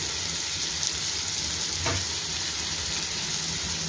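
Coriander and mint leaves sauté with ginger garlic paste in a pan for chicken biryani, giving a steady, close sizzle with no talk.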